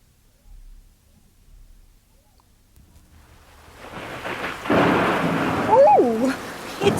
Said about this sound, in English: Oh, it's wet. It's raining.